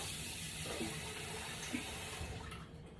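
Tap water runs steadily while a kitchen utensil is rinsed off before frying shrimp and conch fritters, a continuous close splashing wash that tapers near the end.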